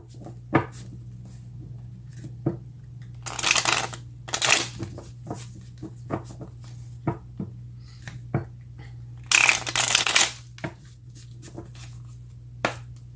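Tarot cards being shuffled by hand, two louder bursts of riffling among scattered soft taps and shuffles, close and quiet with no talk.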